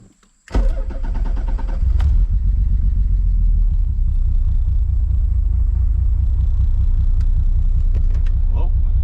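A Nissan 300ZX's engine cranks and catches suddenly after a moment of quiet, then settles into a loud, steady, rumbling idle that continues close up to the end.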